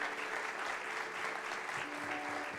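Church congregation applauding together during an evening Bible conference service, steady continuous clapping throughout with faint voices underneath.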